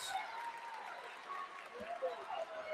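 Crowd noise from the Vanoss fans at a Class 2A girls state championship basketball game, a steady, moderately loud roar of cheering and scattered applause filling the gym, with squeaks and faint voices mixed in.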